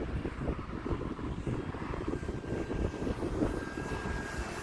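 An E-flite T-28 1.2m RC model airplane comes in to land on a windy day, a continuous buzzing electric motor drone with gusty wind noise, fairly faint and steady throughout.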